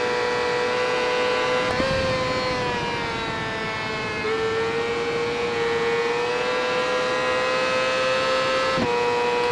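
A Yamaha YZF-R6 sport bike engine racing on a track in RIDE 3, a loud, sustained high-revving whine held close, with brief dips at gear changes.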